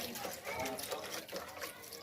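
Grated bottle gourd is rinsed in clean water, giving a continuous splashing, sloshing wash of liquid that stays fairly soft throughout.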